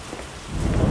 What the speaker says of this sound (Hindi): इस साल इतनी तेज बारिश थी कि उसकी झोपड़ी गलने लगी।